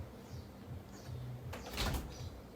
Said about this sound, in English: So I'm going to open the door